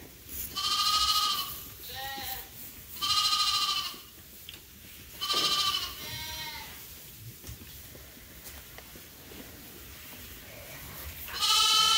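Lambs and sheep bleat on a sheep farm by a new creep pen, giving four loud, harmonic calls in separate bursts with quiet pauses between them, over a low rustling background.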